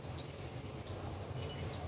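Faint, soft drips and small splashes of water falling back into a bowl from lifted homemade mozzarella cheese, quiet and close.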